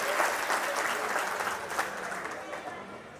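Audience applause at a police line get-together reunion, a steady dense wash of many hands clapping that holds throughout and slowly tapers.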